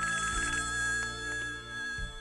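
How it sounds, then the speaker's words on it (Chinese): A telephone rings in a Taiwanese Hokkien radio drama, its bright electronic trill repeating over a low sustained music bed. "这个时阵，电话又过来响起了"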